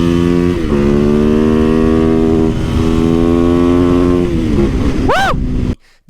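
A 2024 KTM 690 SMC R supermoto single-cylinder engine revs and pulls hard through rising gears, a loud buzzing roar with shifts, then a sharp climbing rev before cutting off abruptly.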